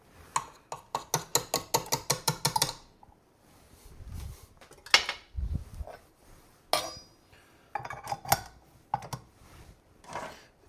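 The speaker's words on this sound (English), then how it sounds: "I'm going to switch the attachment to a paddle attachment instead of the whisk" Attachments on a stand mixer are swapped from whisk to paddle while making homemade butter, producing a rapid run of metallic ticks followed by scattered clinks, knocks and clunks of metal parts, close and fairly quiet.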